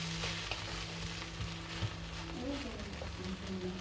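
Rice being stirred and fried in a pan for special fried rice, a steady close sizzle with occasional soft scraping of the spoon, and a faint voice speaking underneath.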